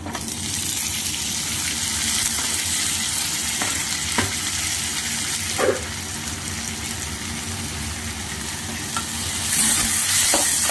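Tomatoes sautéing in a pan with onion, curry leaves and garlic give a steady sizzle and frying hiss throughout, broken by a few stirring scrapes and clinks, close and fairly loud with no talk.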